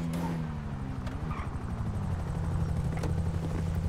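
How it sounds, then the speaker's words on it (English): A helicopter in the Grand Theft Auto V video game throbs with a steady rotor beat, fairly loud and continuous throughout, with a few faint clicks on top. "All right, another chopper."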